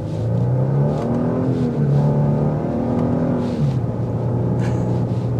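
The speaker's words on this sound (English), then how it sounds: "You're gonna get that throaty exhaust note." A 2024 Genesis G80 3.5t Sport accelerates with a throaty exhaust note, its engine tone rising and falling in smooth sweeps over a continuous close, loud rumble.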